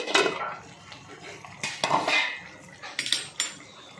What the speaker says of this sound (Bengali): এবার আমি ঢাকনাটা খুলে নিই